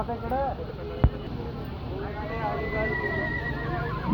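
At a stud farm during a fair, a horse gives a clear rising-and-falling neigh, then a longer whinny after a sharp thump, heard close over a steady background murmur of crowd noise.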